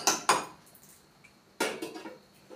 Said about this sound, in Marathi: मिक्स करून झाल्यानंतर त्याच्यावर झाकण ठेवायचं जेणेकरून वाफेवर थोडंसं शिजलं जाईल